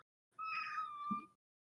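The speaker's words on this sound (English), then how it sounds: "Move, Kitty" A single cat meows once, a clear, close, drawn-out call of about a second in a quiet room.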